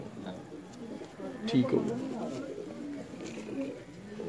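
A pigeon belonging to a man coos softly near the middle of the stretch, mixed in with a man's speech and light background noise.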